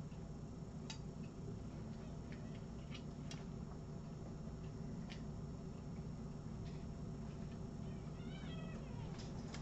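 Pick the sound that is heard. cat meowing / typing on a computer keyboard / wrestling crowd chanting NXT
cat meowing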